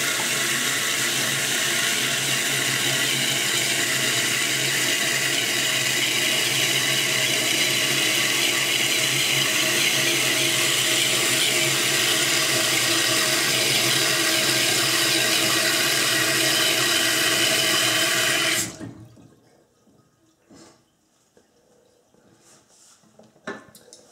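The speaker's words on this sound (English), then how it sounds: "So the next step is to just turn on the water and take it for a test flush" A toilet being test flushed after a repair for a leak or constantly running water, with loud steady rushing water from the flush and tank refill for about eighteen seconds, then stopping abruptly to near silence.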